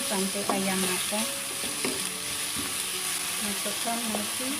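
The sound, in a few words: frying chicken in a pan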